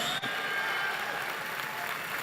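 Congregation applauding during a Portuguese-language church worship service; steady, dense clapping fills the whole stretch with no voices over it.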